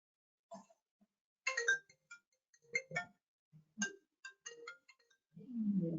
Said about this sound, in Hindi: पता नहीं किसका फोन आया